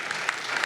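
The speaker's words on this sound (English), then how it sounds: "can we just give a huge round of applause to these beautiful, beautiful scholars" A conference audience claps for a panel of scholars, a short, distant patter of applause.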